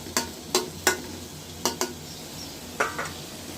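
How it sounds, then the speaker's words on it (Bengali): A metal spoon stirs a small fish and radish curry in a pan, giving six sharp scraping clanks at irregular intervals over a low steady simmer, with no one talking. "আর একটু নেড়ে দিতে হবে যেন নিচে লেগে না যায়"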